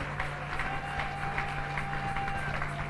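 A church congregation cheering and applauding in acclaim, a steady roar of many voices and claps filling the room at moderate loudness, with a faint tone held beneath.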